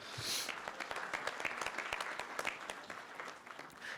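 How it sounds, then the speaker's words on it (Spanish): Audience applause for a panelist at a panel on privacy by design and electronic data registration, a dense, steady clapping from a seated crowd that swells at the start and holds evenly throughout. "Les pido también un fuerte aplauso"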